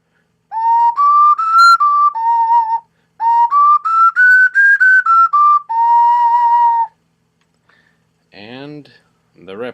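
An original ceramic ocarina plays a clear, pure-toned melody in two phrases, with notes held and gliding between pitches, followed by a short burst of voice near the end.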